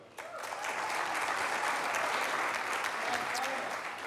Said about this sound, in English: round of applause if you're a big fan of the NFL